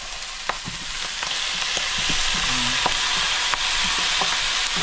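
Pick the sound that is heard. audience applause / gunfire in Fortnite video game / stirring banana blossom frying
stirring banana blossom frying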